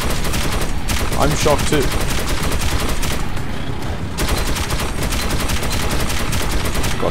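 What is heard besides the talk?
gunshots in Metro 2033 Redux video game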